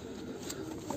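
Young pigeons kept in a box in a coop give soft, low cooing murmurs, close and faint, in a short burst.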